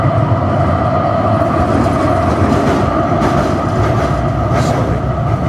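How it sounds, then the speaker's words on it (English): A tram rumbles past overhead on a bridge, heard from underneath as a loud, steady roar with faint rhythmic clatter from the wheels on the rails, continuous throughout. "I'm under a bridge, that's a tram going past"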